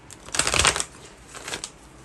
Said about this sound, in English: I gotta shuffle till it feels right.